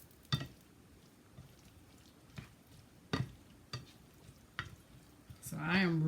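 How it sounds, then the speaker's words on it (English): Zucchini cooks on low heat in a pan, giving a faint, soft sizzle broken by sparse clicks and taps from stirring, with a voice rising briefly at the end. "So I am really cooking my zucchini on low heat"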